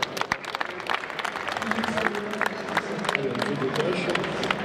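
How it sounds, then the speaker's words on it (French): Applause from an audience at an AGECOTEL 2020 event, a dense steady clatter of many hands clapping, fairly close and sustained for several seconds with faint crowd murmur mixed in. "Merci, on l'applaudit très fort."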